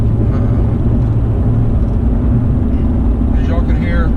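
Toyo RT tires with about 9,200 miles of wear hum on the road at 55 mph, a loud, steady low drone filling the vehicle cabin without pause.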